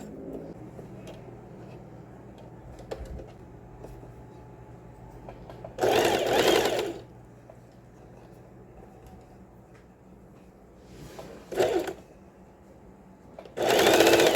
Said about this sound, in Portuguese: Eu vou costurando em cima da costura da overlock, pessoal. E vou dando uma esticadinha pouca, só para firmar o elástico.